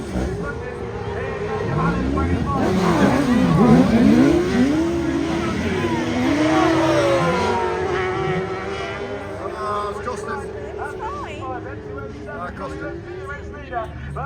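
F1 stock cars race on a grass autograss track, their engines revving and sweeping up and down in pitch, loud and close, while a commentator talks over them throughout.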